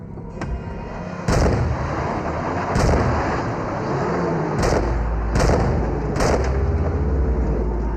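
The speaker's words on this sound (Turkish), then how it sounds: "Çabuk silahını çek, şu adamı vur." Handgun shots in a tense chase scene from a Turkish drama, five or six loud sharp reports spaced irregularly over a constant roaring rumble like a moving vehicle.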